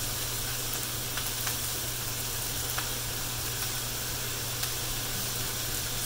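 Zucchini ratatouille sizzles in a deep pan or wok over high heat, a steady close hiss of frying with faint crackles and pops, no talking.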